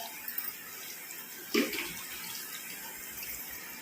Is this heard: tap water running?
yes